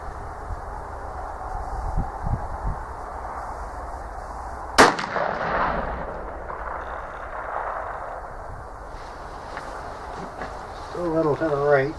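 A single sharp, loud shot from a TC Impact muzzleloader rifle loaded with a 100-grain powder charge cracks out at a shooting range and rolls off in a short echo over steady outdoor background noise.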